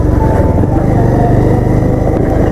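A motorcycle engine labours loudly and continuously up close on a muddy, landslide-damaged road, a dense steady drone with low throbbing pulses.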